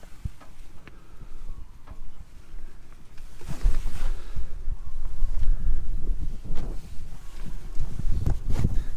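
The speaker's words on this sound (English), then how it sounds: "Sorry, it's super windy." Strong gusty wind buffets the microphone outdoors beside a Nissan R34, a loud low rumble that swells and surges unevenly throughout, with no talk.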